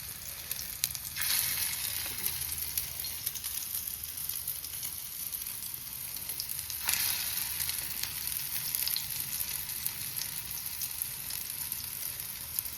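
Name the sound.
chicken frying in hot oil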